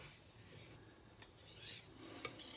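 Kitchen knife drawn across a 400-grit diamond whetstone, a quiet rasping scrape with a few brief sharper strokes and scratchy bursts, close by and alone without talk.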